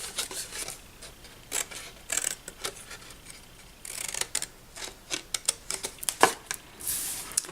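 Scissors snipping wedges out of folded paper tabs while making a paper bunny box, a close series of short crisp cuts and rustles in irregular bursts with brief pauses between them.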